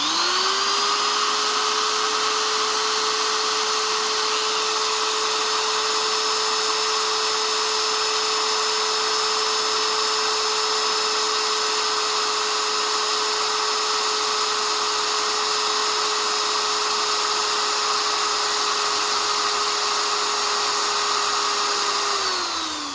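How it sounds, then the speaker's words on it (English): A steady high-pitched power drill whine, drilling at an angle into a Chevy big block engine block to repair a starter ear, runs continuously with no pauses, close and fairly loud, its pitch holding level before winding down at the end. "So you can see I'm drilling at an angle."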